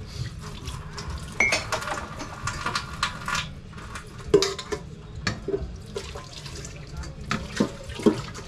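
Dishes being washed at a sink, with scattered clinks and clatters of plates and utensils over running water, fairly close, while someone talks in the background.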